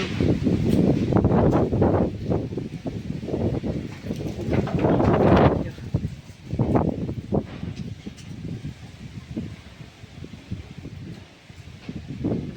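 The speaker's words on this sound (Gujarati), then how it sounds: "હજુ પવન ચાલુ થયો બરાબર" Gusty wind roars and buffets the microphone in bursts during a storm, with a neem tree's leaves rustling loudly nearby as the gusts rise and fall.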